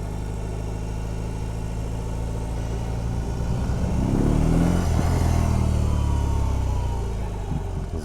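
A BMW R18 Transcontinental touring motorcycle idles up close with a deep, steady burble, the pulsing low rumble swelling briefly midway as if lightly revved before settling back.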